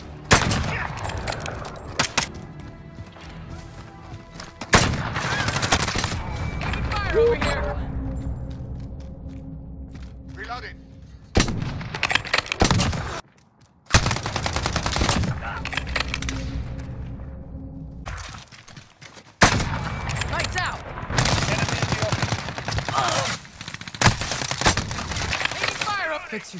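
Sniper rifle shots and bursts of gunfire crack through a video game battle, loud sharp reports separated by gaps and ringing tails, with spoken callouts now and then between the shots.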